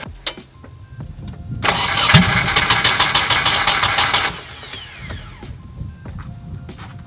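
A turbocharged Nissan 240SX, mid-build, cranks on its starter for an engine break-in: a loud, even whirring crank lasting about three seconds near the middle, with clicks and light shop noises on either side.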